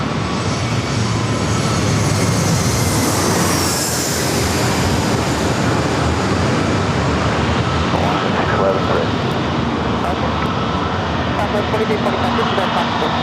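A Hawaiian airliner departing San Diego airport, its engines a loud, steady broadband roar filling the whole stretch, with a tower radio voice over it.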